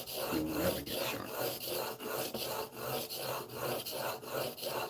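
A Stanley No. 4 hand plane blade is sharpened by hand, rubbed back and forth on a stone in a steady rasping rhythm of about ten strokes, close and fairly quiet.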